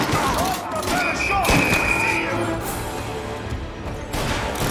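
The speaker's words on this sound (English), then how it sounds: "There we go with the pistol" Pistol fire in the Mafia: Definitive Edition video game, a few sharp shots with one strong report near the middle, set against game ambience and background voices.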